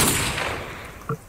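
A short gunshot from Call of Duty 4 gameplay in a paintball-style match: a sharp broadband blast decays over about a second, followed by a brief, fainter second report near the end.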